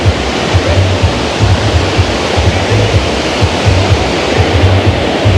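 Loud, steady rush of water at a combined beach and river spot, a dense continuous roar with a faint low rhythmic pulsing underneath, no voices.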